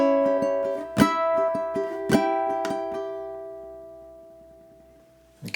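A ukulele is fingerpicked in a steady pattern, playing an eerie diminished run that climbs up the neck, with bright plucked notes and a few sharper accents before the last tones ring out and fade.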